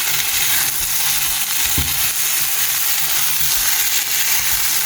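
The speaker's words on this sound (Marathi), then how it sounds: "तर आता हितून हांव घालता आमचे हे फ्रायड एग्स" Fried eggs stirred into a sizzling egg curry gravy in a Konkani home kitchen: steady loud frying hiss throughout with a few soft scrapes of the spoon.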